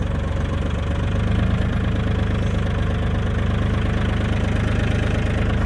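An ISEKI TA250 tractor engine idles with a loud, steady diesel chug and a rapid knocking pulse, constant and close throughout.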